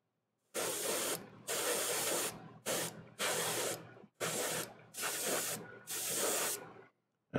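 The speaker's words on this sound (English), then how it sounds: "And this is what's great with the airbrush, using glazes and stuff over it." An airbrush sprays paint onto a Warhammer 40K Magnus the Red miniature in six close, hissing bursts of roughly half a second to a second each, separated by brief silent pauses, with no talk over them.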